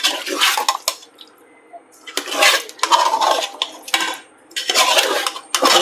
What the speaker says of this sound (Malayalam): നല്ല ഇളക്കുവാണ്, നല്ല ചിക്കനും കൂട്ടിയിട്ട് ഇളക്കുവാണ്.